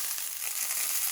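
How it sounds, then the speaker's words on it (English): Pieces of meat searing in a hot pan before going into a pressure cooker, giving a steady, soft close sizzle with no voices. "As these pieces start to sear"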